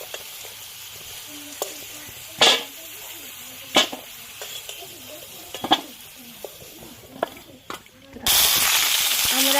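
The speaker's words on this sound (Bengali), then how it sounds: "আমরা কড়াইতে বেগুন দিয়ে দিলাম। বেগুনগুলিকেও আমরা হালকা করে ভেজে নেব।" Eggplant pieces drop into hot oil in a kadai and begin to fry, with sparse clatters and stirring knocks over a soft bubbling before a loud, steady sizzle takes over at the end; a voice speaks over parts of it.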